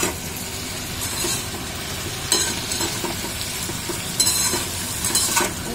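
Sliced potatoes fry in a pan for aloo bhaja, a steady close sizzle with occasional scraping stirs and light clinks of a utensil against the pan.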